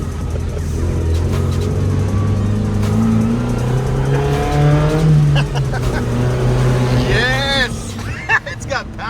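A Suzuki Samurai fitted with a swapped-in 1.6L 16V engine, its antifreeze leak just fixed, accelerates hard in second gear. The engine note climbs steadily and loudly, while excited voices talk and shout over it.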